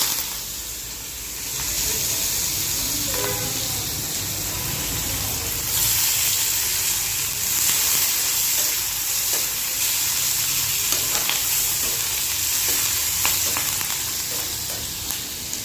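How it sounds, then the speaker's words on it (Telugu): Onions frying in oil in a kadai give a steady, close sizzle that runs throughout, with faint stirring and clinking underneath. "అదే కడాయిలో ఆయిల్ వేసుకున్నానండి ఇప్పుడు వచ్చేసి ఆనియన్స్ వేసుకుంటాం"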